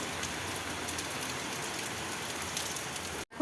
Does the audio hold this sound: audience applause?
no